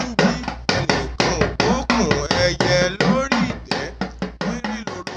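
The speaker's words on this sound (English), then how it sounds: "The drum isn't just playing a rhythm, it's saying good morning." Ashanti talking drum from West Africa beating out a spoken greeting in a rapid run of loud, close strikes whose pitch bends up and down like speech.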